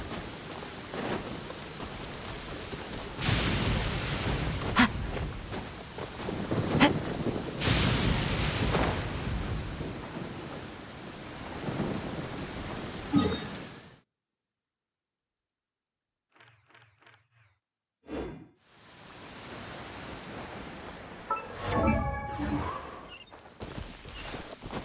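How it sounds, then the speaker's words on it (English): Steady downpour of rain in the video game Genshin Impact, a dense wash with a few sharp cracks, cutting out abruptly to near silence before faint clicks and another burst of rain near the end. "Taking a stroll in the middle of a downpour certainly rouses the spirit."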